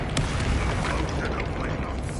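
A Confringo spell blast goes off in the video game Hogwarts Legacy, a loud, rumbling burst of noise with crackling, mechanical clatter layered over it, sustained and close.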